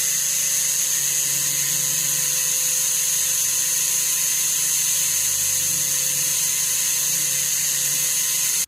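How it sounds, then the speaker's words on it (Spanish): An electric drill spins a clamped part while fine sandpaper is held against it during soldering work, making a steady high-pitched whine with constant tonal hum, close and unbroken for the whole stretch. "y la colocamos en el taladro. Ahora con una lija fina la vamos a pasar ahí."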